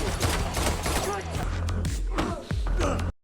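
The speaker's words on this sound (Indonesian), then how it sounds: "Baku tembak pun terjadi." Gunfire in a hotel shootout scene from a John Wick film, with rapid shots and impacts mixed with a busy soundtrack, and a narrator talking over it throughout.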